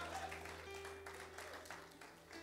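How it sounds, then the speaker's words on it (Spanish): Church congregation clapping in praise during a sermon, a faint, loosely rhythmic patter of hands heard at a distance over a steady background hum. "Denle un aplauso al Señor fuerte."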